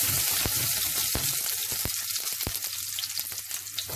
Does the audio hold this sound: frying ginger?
yes